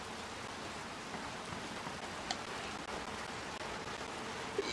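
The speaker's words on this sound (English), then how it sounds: "It's getting stronger and stronger. The rain, I mean." Rain in the video game Little Nightmares II, a soft, steady hiss of falling drops with faint occasional taps, quiet and continuous with no one talking.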